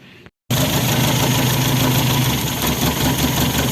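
Toyota 4K engine starting up and running after a spark plug swap, a steady, close, rough idle with a slight shake and knock that kicks in after a brief silence and holds loud and even.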